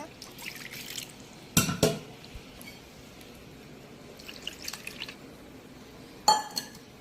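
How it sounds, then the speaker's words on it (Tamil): Water splashing and pouring into a pot of mutton soup rasam, with a few short bursts of liquid and light clinks of a vessel separated by quiet pauses, close and fairly soft. "கொஞ்சமாக வந்து தண்ணி சேர்த்து ஊற்றிக்கோங்க"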